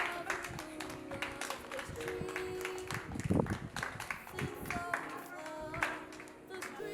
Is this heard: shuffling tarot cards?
no